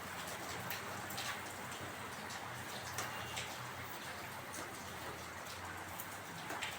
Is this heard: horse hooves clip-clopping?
no